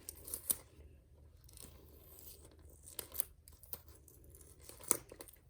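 Clear tape is peeled off a clear plastic treat bag in quiet, close, intermittent bursts of crinkling and tearing, separated by near-silent gaps.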